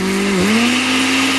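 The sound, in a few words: blender running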